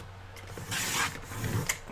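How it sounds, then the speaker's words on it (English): Paper being trimmed for a calendar journal gives a close, rasping rub that swells into a longer scraping stroke, followed by softer rustling and a small click. "So I'm just trimming off"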